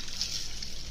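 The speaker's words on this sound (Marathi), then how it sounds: "स्वच्छ धुवून घ्यायच्यात आता" Soaked sabudana being rinsed in a bowl of water, a soft continuous sloshing and swishing wash, steady and close throughout with no voices.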